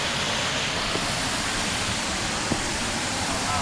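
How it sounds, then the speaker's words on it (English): A waterfall in Ricketts Glen State Park roars as a dense, steady broadband rush, loud and close, with no breaks and a couple of faint knocks. "We made it to the next waterfall."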